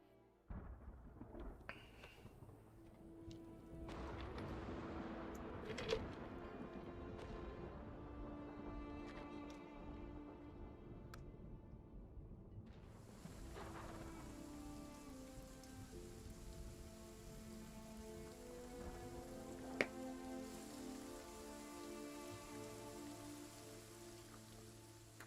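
Steady rain patters on surfaces in the game Lost Ark, a dense continuous wash with a few sharper cracks and rumbles of thunder, heard alone without talk.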